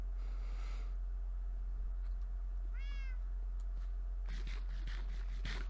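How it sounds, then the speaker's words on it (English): Cats in a Minecraft mesa biome meow in short separate calls, one near and rising in pitch, over a steady low hum and scattered soft clicks. "we found a mesa biome where we found these cats"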